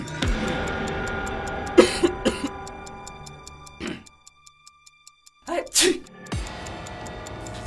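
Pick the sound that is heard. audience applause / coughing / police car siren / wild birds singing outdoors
coughing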